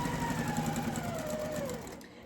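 A sewing machine stitches pieces of quilt fabric together in a fast, even mechanical chatter with a faint motor whine drifting downward in pitch, close and steady throughout.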